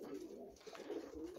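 Pigeons in a breeder's loft coo softly and continuously, a low rolling murmur that sounds close but quiet, with no other sounds standing out.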